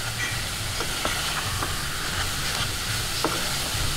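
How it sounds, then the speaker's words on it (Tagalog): A mung bean and sugar filling for Filipino bibingkoy is stirred nonstop in a pan over high heat. It gives a steady close sizzle with faint intermittent scraping clicks from the spoon. "Nasa high heat po yung ating apoy. Huwag po natin titigilan ng halo."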